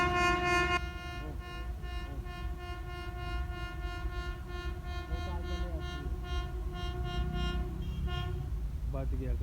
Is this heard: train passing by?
yes